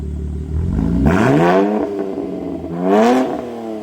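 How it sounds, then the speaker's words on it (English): A 2025 BMW M4 with a Valvetronic Designs straight-pipe exhaust revs loudly twice, each blip rising sharply in pitch before falling back to a rumbling idle, with no talk. "Now we currently have it in straight pipe setup, so let's hear what it sounds like."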